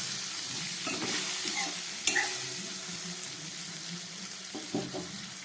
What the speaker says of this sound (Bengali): এবার এর মধ্যে ভেজে রাখা মাছটা আমি দিয়ে দিচ্ছি।